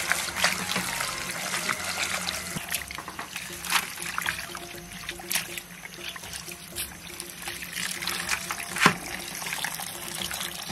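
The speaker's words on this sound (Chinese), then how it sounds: "把皮肠上面的浮沫洗一洗" Blanched pork intestine rinsed under a running tap, a steady trickle and splash of water with irregular sloshing as it is handled, close by and continuous throughout.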